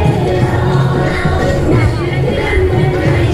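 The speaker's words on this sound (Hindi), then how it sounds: "देखिए भीड़ कितनी ज़्यादा है यहाँ पर" A huge crowd packs the streets of Ayodhya for Shri Ram's wedding procession, a loud close murmur of many voices and shouts with shuffling movement throughout.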